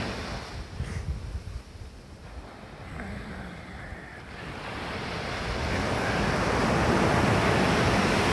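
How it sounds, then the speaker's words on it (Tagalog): Ocean surf rolls in, a broad rushing wash that swells louder toward the end, with some wind noise. "Sarap pakinggan ng alon guys."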